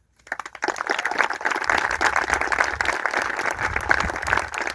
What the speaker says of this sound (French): vous pouvez tous applaudir un peu plus fort, s'il vous plaît